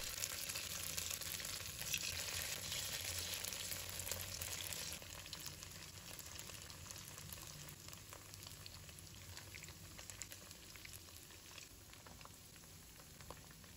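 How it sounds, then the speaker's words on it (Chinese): Tofu pieces fry in hot oil in a pan over high heat, giving a continuous hissing sizzle with scattered crackles. It starts fairly strong and eases slightly after a few seconds, with no voices. "油热之后，把豆腐一块一块的放入锅中"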